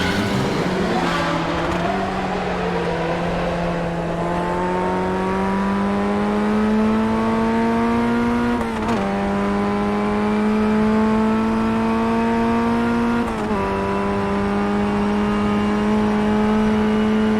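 A Formula Ford racing car laps in a sim racing game, its engine note climbing steadily through long revving pulls, dropping sharply at two gear changes, loud and close, with no talk.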